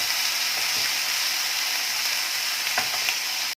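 Ginger garlic paste and green chili stirred in a hot pan give a loud, constant sizzle with a few light scraping clicks from the stirring, cutting off abruptly at the end.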